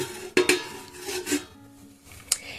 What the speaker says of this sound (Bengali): এখন এটাকে আমি এখন একটা ঢাকা দিয়ে রেখে দেব